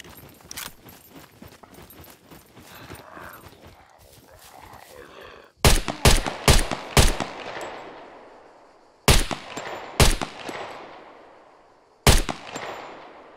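Kar98k rifle shots ring out in the survival game Scum, loud sharp cracks fired one at a time with long decaying echoes, preceded by quieter rustling and clicking movement.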